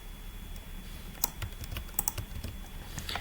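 Quick, uneven clicks of typing on a computer keyboard, close and fairly quiet, with a few sharper key strikes standing out.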